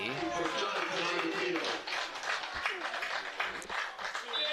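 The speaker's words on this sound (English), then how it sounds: "So Agapito getting a round of applause from the fans" Home fans at a Windsor FC soccer match against Alliance United applaud a substituted player, a steady spread of clapping heard at a distance beneath a commentator's voice.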